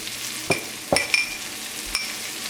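Okra and coconut stir-frying with turmeric in a pan give a low, steady sizzle, broken by a few sharp clinks of a spoon against the pan, with no voices.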